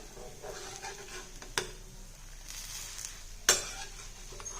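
Soybean adai, a thick lentil-style dosa, frying on a hot pan with a steady soft sizzle and two sharp scraping clacks of a spatula on the pan, close and without talk.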